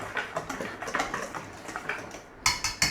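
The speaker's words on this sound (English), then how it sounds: "We're just going to give that a little whisky with a hand whisk." A hand whisk beats flour, cocoa and sugar in a bowl with quick, rhythmic ticking strokes that scrape and patter close by. Near the end come a few louder clanks of the whisk against the bowl.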